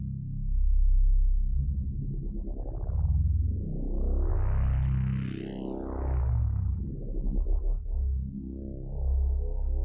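Sweeping synthesizer tones from Omnisphere 3's polyphonic frequency shifter glide up and down in overlapping waves, rich and metallic, played alone with expressive bends.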